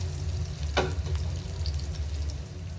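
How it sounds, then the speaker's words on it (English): Small whole onions, about eight of them, frying slowly in a pan for dal curry, a steady low sizzle with a brief stirring scrape near the start, close and continuous with no talk. "Just fry this slowly until it's soft."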